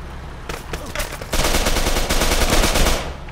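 Gunfire in the video game Arma 3, a firefight shooting through a window: a few scattered shots, then sustained rapid automatic bursts, loud and close, with no talking.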